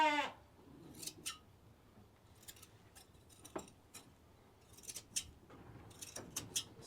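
Hand blade shears snip loose wool from a sheep's tail area in crisp, scattered clicks and bursts, close by, with a sheep bleating briefly at the start and no talking.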